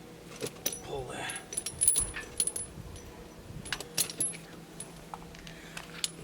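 Tire chains coming off the wheel of a Kubota B2601 compact tractor in a garage, producing scattered metallic jangles and clinks in short irregular bursts, close and fairly loud, with brief quiet gaps between them.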